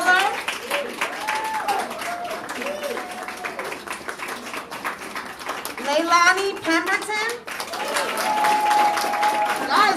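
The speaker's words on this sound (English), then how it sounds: "Come on, clap it up." Audience applause at a children's recital showcase, a steady wash of clapping with a crowd murmur that swells near the end, while a voice announces names over it.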